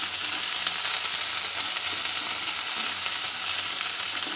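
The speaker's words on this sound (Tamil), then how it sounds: "ஸோ மூடியை திறந்துட்டு ஒரு தடவை நல்லா வதக்கி விடுங்க." Onions and spices for a Tamil mushroom pepper fry are sautéed in an open pan after covered cooking, with a steady, dense sizzle and faint stirring scrapes running evenly and close throughout, no voices.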